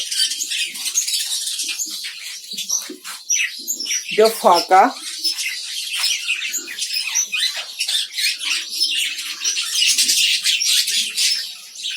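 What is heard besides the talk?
budgerigars chirping in a colony breeding setup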